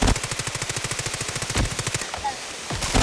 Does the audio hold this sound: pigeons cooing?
no